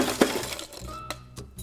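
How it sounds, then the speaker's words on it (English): Ice cubes dropped into a highball glass while building a Dark 'n' Stormy cocktail, a few sharp clinks and cracks spaced apart, close and bright, with no talking. "So the first thing I'm going to do is add some ice."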